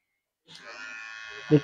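An electric hair clipper switches on and hums steadily up close while trimming medium-length hair, with a brief louder buzz near the end.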